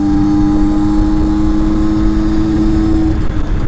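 Motorbike fitted with a modified DD engine kit revving hard at full acceleration, a loud steady droning whine with a strong sustained tone throughout, close and alone without speech.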